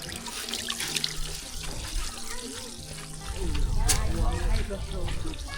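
Running water pours from a tap into a sink while pots are washed, growing louder and splashier midway, with a voice talking over it.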